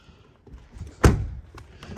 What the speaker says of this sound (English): I hit this door probably the hardest.